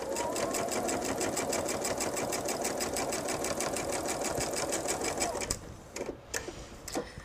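Steady, fast rhythmic whir of a sewing machine stitching fabric with a walking foot on a jelly roll purse, loud and close, running continuously before stopping abruptly, followed by a few soft handling clicks.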